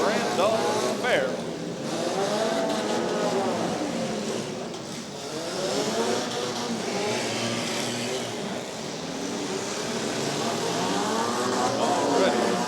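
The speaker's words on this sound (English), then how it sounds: "they are off and running here at the Smash and Crash and Tear 'em Up Automobile Demolition Derby Mini Car Event" Mini cars at a county fair automobile demolition derby, a field of 19, engines revving and grinding in a steady continuous roar with crowd noise, while an announcer talks over it throughout.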